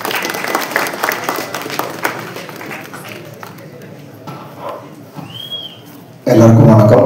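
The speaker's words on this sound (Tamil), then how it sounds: "ஒரு நல்ல கைத்தட்டலோட லெட்ஸ் வெல்கம்" An audience at a movie press meet claps steadily to welcome actor Arun Vijay, with the applause tapering off before a loud voice cuts in close to the microphone.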